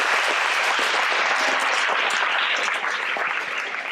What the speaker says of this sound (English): so if we could get a round of applause for them real quickly.